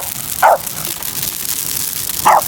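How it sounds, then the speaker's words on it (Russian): Two short dog barks, about two seconds apart, ring out near a big crackling campfire, over a steady hiss of fire and background noise. "О, собака! Собака в шоке!"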